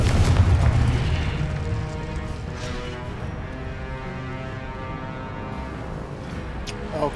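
A Confringo spell blast in the video game Hogwarts Legacy lands as a heavy, booming explosion at the start, followed by a long rumbling tail and layered game effects that stay fairly loud throughout.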